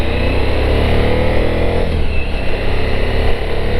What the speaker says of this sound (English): So here we are coming up to speed on the motorcycle.